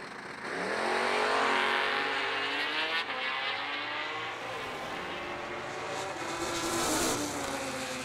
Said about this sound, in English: Wow, what a drag race.